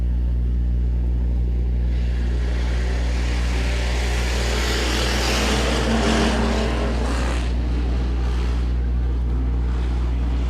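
Hobby stock race cars roar around a dirt speedway oval during a heat race. The engine noise swells loudly as the pack sweeps past mid-clip, then fades back to a distant drone under wind noise.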